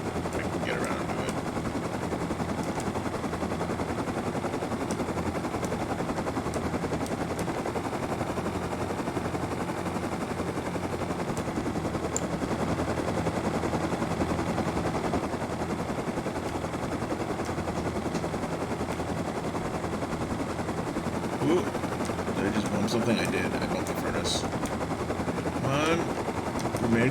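A helicopter in the video game Rust flies and comes in to land on a helipad, making a steady droning rotor noise with scattered sharp cracks that build near the end.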